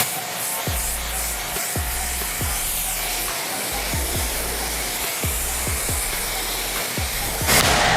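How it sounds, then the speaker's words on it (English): A Tesla being rinsed with a water spray wand, a steady loud hiss of pressurized water running throughout, broken by a series of short low thumps from the sprayer as it moves across the car. "Now we're gonna rinse it off."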